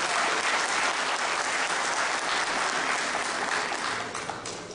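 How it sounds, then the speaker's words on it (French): Audience applause at a school end-of-year celebration, a dense, steady wash of many hands clapping that holds strong throughout and eases slightly toward the end. "je vous demande de les applaudir"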